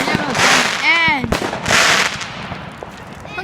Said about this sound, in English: those fireworks are never gonna end